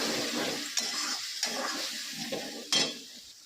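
Spice paste for a bhetki fish head curry sizzles in a pan while being stirred, with several sharp scraping clicks of the spoon against the metal over a steady frying hiss.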